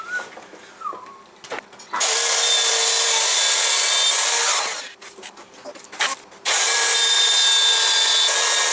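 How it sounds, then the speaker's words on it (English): A router cutting shallow passes into a wooden panel for a Cessna 172 simulator panel: loud sustained high whining bursts separated by quieter pauses and handling noises, close up. "Now I'm just doing passes with the router, trying not to dig out too much at a time"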